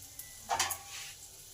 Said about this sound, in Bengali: এদিকে সাদা তিলটা আছে সেটাও দিয়ে দিই